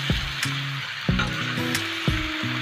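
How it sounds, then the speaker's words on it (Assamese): Sliced bamboo shoots dry-frying in a pan over low to medium heat, with a soft steady sizzle broken by a few sharp scrapes and knocks as they are stirred, close and with no one talking. "এইখিনি মই এতিয়া ল' টু মিডিয়ামত ৰাখি জুইটো ভালদৰে ভাজি ল'ম"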